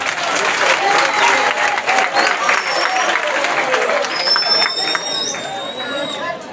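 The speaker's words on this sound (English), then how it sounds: "Give them a clap." Sustained audience applause from a school parents' gathering for the Senior One parents committee, dense clapping that fills the room steadily for several seconds, with some crowd voices mixed in.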